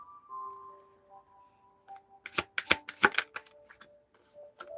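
Tarot cards are shuffled close up in a quiet room, a run of crisp riffling snaps and flutters over a faint background tone, with no talking.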